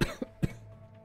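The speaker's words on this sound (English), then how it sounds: "No, that was a wet cough." Two short, loud, wet coughs close to the mic within about half a second, followed by quiet.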